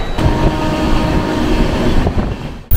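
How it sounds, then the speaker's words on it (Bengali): Kumbha Express 12369 passenger train from Howrah toward Asansol rolls steadily at speed, a loud, continuous interior rumble with rhythmic wheel clatter and a brief sharp knock near the end. "12369 কুম্ভ এক্সপ্রেস তার নির্দিষ্ট গতিতে এগিয়ে চলেছে।"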